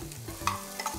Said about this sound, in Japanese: 頑張って細切りにしたキャベツ、これもさっと炒めます。